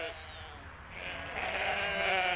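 Sheep bleating, a wavering drawn-out call that rises and grows louder toward the end, close and alone without talk.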